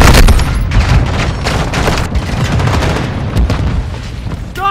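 Dense, continuous gunfire in Call of Duty: Modern Warfare II, rapid automatic bursts and booming shots layered together at steady loud volume throughout.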